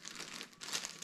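Plastic packaging around a prayer mat crinkles and rustles as it is opened, a faint close-up run of crumpling sounds.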